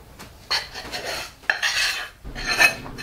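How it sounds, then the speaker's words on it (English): A utensil scrapes thick homemade clay out of a cooking pan on a kitchen counter in several short, gritty metallic strokes, close and clear, with no talking. "Bring it over to the counter, scrape it out of the pan"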